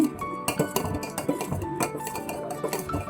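A spoon clinks and scrapes against a metal pot while jackfruit payasam with ghee-roasted cashews is stirred, giving repeated bright taps in an irregular rhythm, close and fairly loud.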